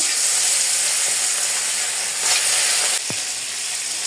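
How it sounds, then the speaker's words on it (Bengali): Meat fries in a hot wok with a loud, continuous sizzle, a brief stir-like scrape, and a short clink near the end. "এখন মাংসটাকে ভেজে নেব, কড়াই গরম হয়ে গিয়েছে।"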